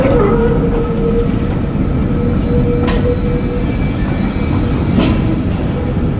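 A Helsinki tram rolls past on its tracks with a steady, loud rumble, wheels clattering and two sharp squeals cutting through, heard close with no voices.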